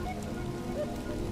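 Cartoon rain falling, a soft steady patter of drops on a surface with no other sound, brief and moderately faint.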